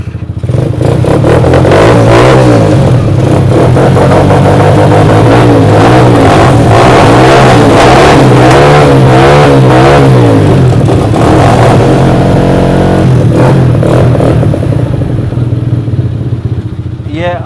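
A 125cc quad bike engine starts and revs loudly up close, rising and falling through several throttle bursts with a rough mechanical clatter, and voices are faintly audible beneath it.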